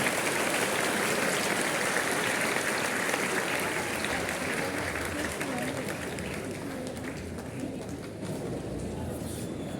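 At an Independence Day school program, a crowd gives loud, sustained applause for small children who have recited slogans of great leaders, a dense, continuous roar of clapping that eases slightly toward the end.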